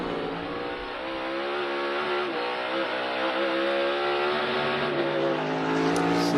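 A NASCAR race car creeping slowly around a road course in practice, its engine a steady low rumble with gently shifting pitch, close and continuous.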